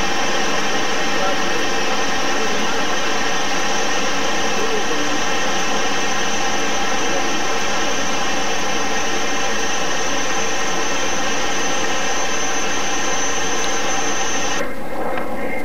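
A Fouga 170 jet aircraft in flight gives off a loud, steady engine roar and whine that holds without a break, with a slight change in tone near the end.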